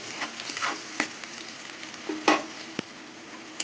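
Onions softening as they fry in a pan, a quiet steady sizzle with a few sharper scrapes and clinks of stirring scattered through.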